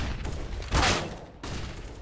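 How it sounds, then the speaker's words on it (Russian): A gunshot rings out in Counter-Strike on the Dust2 map: one sharp burst that rises above a dense, steady bed of game noise and gunfire, then fades quickly. "Один выстрел, и что немаловажно для Георгия, один труп сразу же приплыл"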